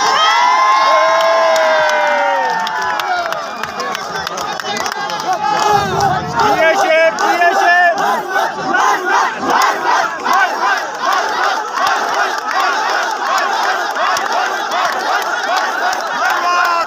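A large political rally crowd greets Sher Afzal Khan Marwat with loud cheering and rhythmic chanted slogans, the massed voices rising and falling close and powerful throughout.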